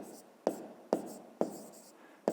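Pen writing numbers on paper, soft scratchy strokes with several sharp taps as the pen touches down, close and quiet, under faint whispered speech.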